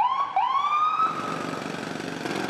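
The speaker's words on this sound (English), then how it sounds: "there's a lot of sirens," Emergency ambulance sirens in New York City traffic, a wailing tone rising and falling, then blending into a broad wash of street noise; no voices.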